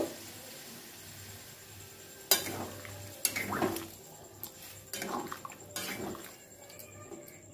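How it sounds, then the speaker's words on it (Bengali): Chickpea boiling water poured into a pan of cooked kabuli chana: a few sharp clinks of a vessel and spoon, then short splashing pours and bubbling, moderately close in a quiet kitchen with no talking. "কাবলি চানাটা যে জল দিয়ে সেদ্ধ করেছিলাম সেই জলটা এখানে অ্যাড করে দেব"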